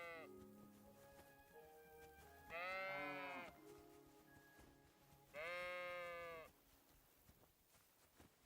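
Two loud, drawn-out sheep bleats in Kingdom Come: Deliverance 2, a few seconds apart, standing out over quiet background sounds.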